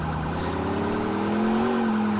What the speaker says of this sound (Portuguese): Deixa eu desligar essa sirene, velho.